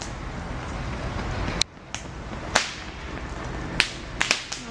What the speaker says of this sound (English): It looks like there's a top and they're taking that stick and slapping at the top to keep it going.